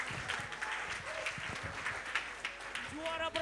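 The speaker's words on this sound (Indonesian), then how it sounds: "tepuk tangan yang meriah untuk Mystical" Audience applause at an anniversary stage performance, a steady wash of clapping with a voice speaking over it and bits of music or sound from the stage.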